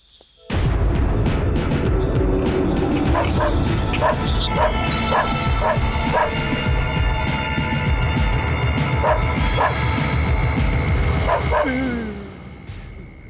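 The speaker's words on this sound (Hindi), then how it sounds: "ये कुत्ता क्यों भौंक रहा है?" A dog barks repeatedly in an evenly spaced run of sharp yips and barks, loud and close, over a busy film soundtrack with music and background noise, stopping near the end.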